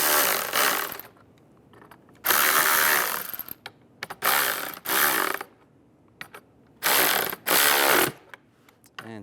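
A ratchet tightens bolts on a 2007-2013 Chevrolet Silverado steering wheel, giving repeated bursts of rapid clicking separated by brief pauses, close and fairly loud.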